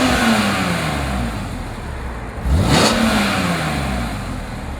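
A 2002 BMW M3 Convertible engine hums under steady driving, then revs up as it accelerates, the pitch climbing and falling across a few seconds against constant road and wind noise, heard from inside the car.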